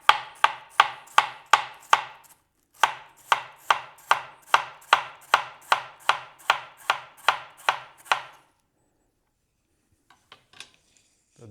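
Knife slicing through a head of cabbage on a cutting board, about twenty crisp, evenly paced cuts close up, a short pause after the first few, then silence with faint handling at the end.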